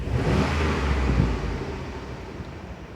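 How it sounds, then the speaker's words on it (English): A Chevy Suburban's 5.3-liter engine is snapped open at the throttle, giving one loud surge of revs that peaks early and then slowly falls back toward idle, with some wind noise around it. "I'm going to do a snap throttle"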